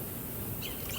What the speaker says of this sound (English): these freaking hawks that you hear